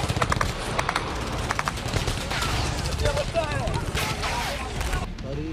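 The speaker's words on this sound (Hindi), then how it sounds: "लोगों पर इजरायली सेना ने फायरिंग शुरू कर दी।" Bursts of rapid gunfire from the Israeli army in Khan Younis crackle in dense volleys, loud and close, with voices mixed in among the shots.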